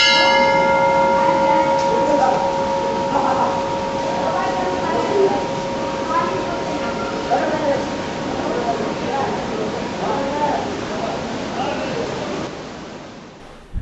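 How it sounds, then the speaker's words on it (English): Large temple bell hanging at the entrance of the ancient Gouri temple in Gourikund, ringing with sustained metallic tones that linger over a steady wash of background noise, with faint voices and activity around. "You can see the huge bell hanging at the entrance of the Gouri temple."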